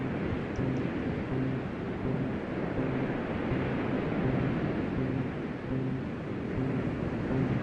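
A steady, broad roar of surf and wind, like waves washing continuously, with a faint low hum running underneath.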